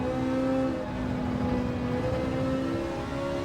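Race car engines in Gran Turismo 7 played in VR, a steady loud drone of revving motors holding a sustained pitch throughout, with no talking.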